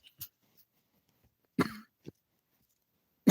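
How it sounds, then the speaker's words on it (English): Several dry coughs from one person, close and fairly loud: a small throat-clearing hack, then a harsher burst, a short follow-up cough and a final sharp cough, with quiet gaps between. "I've got this dry cough and it's driving me nuts."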